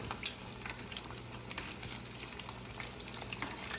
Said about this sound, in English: So you want to just keep that butter moving around and get that garlic infusing in there.